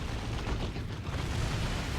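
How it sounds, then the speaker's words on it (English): Fireballs blast into an Orc in a Chaos Lord versus Orc strategy-game tournament match, a dense, continuous roar of fiery explosions and booming impacts filling the whole moment with no talk. "Orc's taking a face full of fireballs from DarkRiku's Chaos Lord"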